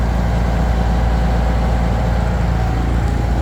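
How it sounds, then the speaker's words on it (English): Onboard generator running aboard a sailboat at night, a steady, loud low-pitched engine drone that holds even and continuous with no pauses. "sorry about the noise. We do have the generator going."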